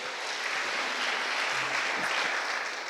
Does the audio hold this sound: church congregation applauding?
yes